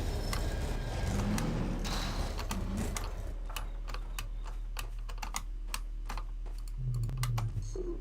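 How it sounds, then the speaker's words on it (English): Typing on a computer keyboard, a quick irregular patter of sharp key clicks close by, over a low steady background hum. "What kind of keyboard is that?"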